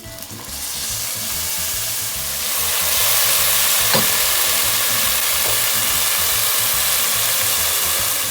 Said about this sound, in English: This is the noise that makes the rice when it's ready to have some white wine or broth.